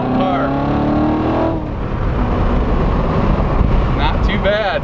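A 2016 Corvette Z06 engine revs and drones loudly with rev matching under wind rumble, pitch rising through a shift, and people talk briefly at the start and end.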